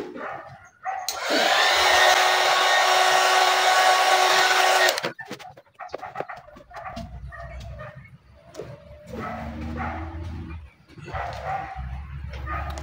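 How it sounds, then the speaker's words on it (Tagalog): A blower dries freshly applied sticker decals on a Sniper 135 Classic motorcycle: a loud, steady rushing whoosh for about four seconds that cuts off abruptly, followed by scattered handling clatter and a dog barking nearby. "Kunting blower."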